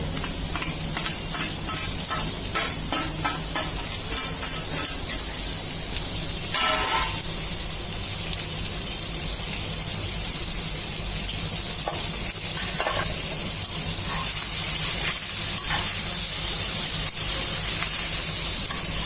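Zucchini and carrot fry in a pan for a vegetable chow mein, with a steady loud sizzle and hiss broken by occasional scraping stirs and bursts of steam.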